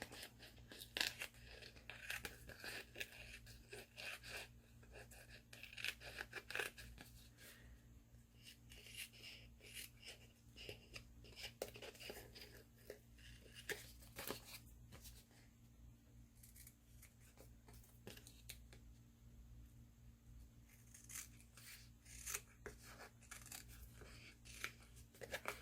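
Scissors trimming excess fabric, a long run of soft repeated snips and crunchy cuts, close but quiet, in irregular bursts with brief pauses.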